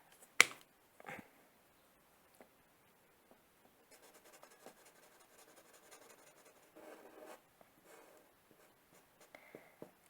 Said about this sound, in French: mon chat s'amuse avec mon sac en papier